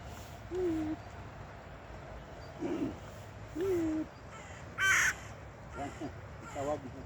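Crows caw repeatedly while being fed birdseed outdoors, harsh calls coming in spaced bursts with a louder burst near the middle, over a steady background hum.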